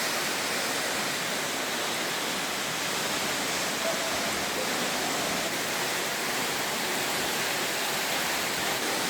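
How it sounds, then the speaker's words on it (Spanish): Waterfall at Salto 1 near Pucón, heard from inside a cave behind the falling water: a dense, steady, even roar of pouring water that fills the whole stretch without a break. "Estamos ahora dentro de la caverna, mirando desde adentro hacia afuera cómo cae el agua."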